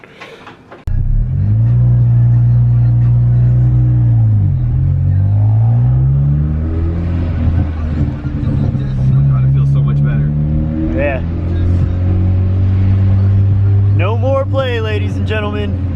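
Engine of a pink Mini under repair, revving and droning loudly while driving, pitch rising and falling through gear changes, with a voice speaking briefly near the end.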